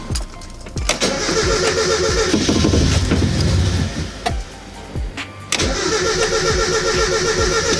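Mazda Miata with a newly replaced fuel pump cranking on a start attempt, loud rhythmic starter churning in two long bursts separated by a brief pause, close and dominant without catching to a steady idle.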